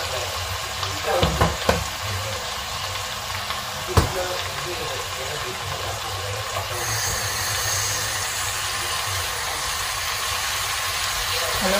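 Broccoli stir fry sizzling loudly and steadily in a pan, with a few clattering stirs and knocks early on and a hissing rise in the later half.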